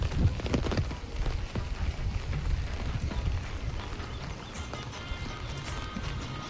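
Village rain patters steadily, a dense crackle of drops on surfaces mixed with scattered louder taps, continuous and fairly close.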